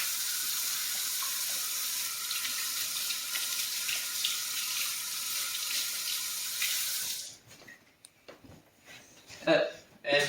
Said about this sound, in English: we got to wash our hands like normal people do